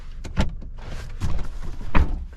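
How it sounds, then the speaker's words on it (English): A Volvo S90 B5 door lock button is pressed, giving a few short mechanical thunks and clicks from the door lock actuators at close range, spread over about two seconds. "Now I can specifically lock this door by pressing this button"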